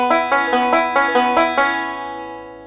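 A banjo plays a quick forward roll in boogie style, a bright plucked pattern of evenly spaced notes up close, then the strings ring out and fade.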